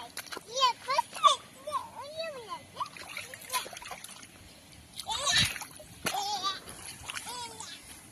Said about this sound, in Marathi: पाणी उडव.